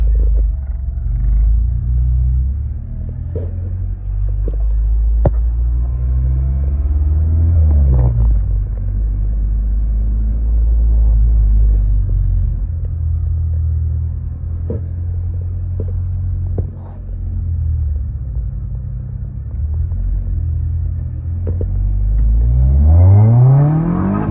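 A Honda Civic with a K24 engine, its check engine light on, drives along with a steady loud engine rumble and road drone, shifting gradually in pitch, then revs up sharply near the end; nobody speaks.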